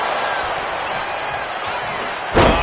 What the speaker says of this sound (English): Rhea is revving this crowd up